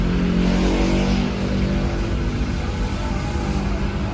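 A Toyota Revo's engine runs after a push-button start, a steady idle rumble holding loud and close throughout with no voices over it.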